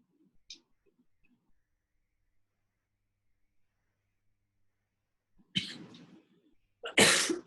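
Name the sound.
person coughing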